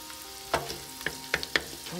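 Shrimp and garlic sizzle in a pan for shrimp scampi, a steady close frying hiss broken by several sharp clicks of a utensil against the pan, with no talking.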